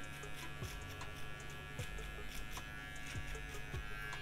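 A finishing hair clipper hums steadily while trimming away the guide line during a razor-part haircut, a continuous close electric buzz with faint clicks and no talking.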